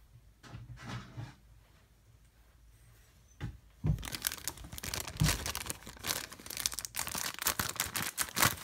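Crinkling plastic and sharp snipping and tearing noises as scissors cut open a Funko mystery mini toy package, quiet at first, then a dense run of close crackling and cuts for several seconds.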